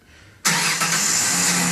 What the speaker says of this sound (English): Remote start time.